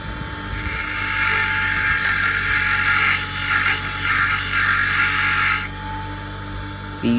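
Ryobi bench grinder grinding metal, a loud continuous high-pitched whine and hiss of the wheel biting the workpiece for several seconds before easing off, with the motor hum carrying on underneath.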